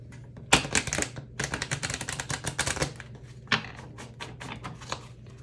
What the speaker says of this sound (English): I am shuffling the heck out of this, okay?